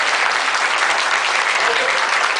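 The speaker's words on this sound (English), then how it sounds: "When I use the word clap, then you have to clap." A lecture audience claps hard in unison on cue, a steady, loud, dense wall of clapping filling the whole moment without pause.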